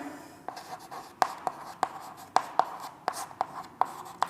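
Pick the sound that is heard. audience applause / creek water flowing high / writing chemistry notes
writing chemistry notes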